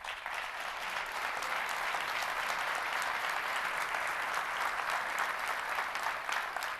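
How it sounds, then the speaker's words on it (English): Loud, sustained applause from a large audience at the 2016 Oakland County State of the County Address welcoming a county executive, an even wash of many hands clapping with no pauses and no speech over it. "Please give a welcoming round of applause to Wayne County Executive Warren Evans."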